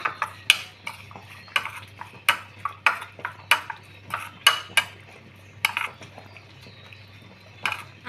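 A spoon clinks repeatedly against a bowl while green chili chutney is stirred with vinegar and coconut oil, giving a run of sharp, irregular metallic taps that thin out toward the end.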